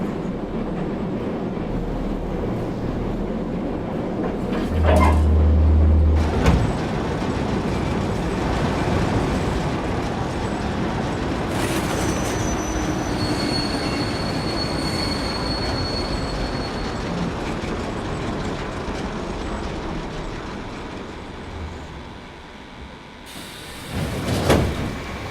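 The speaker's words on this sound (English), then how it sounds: "Oh, the train stopped and the door's open, so I guess that problem solved itself." Video-game train rolling to a halt: a loud, sustained rumble of wheels on rails with high squeals, a thud near the middle, then a sliding door opening near the end.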